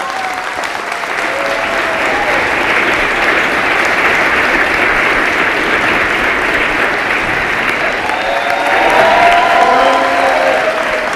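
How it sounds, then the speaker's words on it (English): A large audience at a State of the District address applauds the council chairman, a loud continuous wash of clapping and crowd noise with faint voices and cheers mixed in, swelling slightly near the end. "Give him a big round of applause."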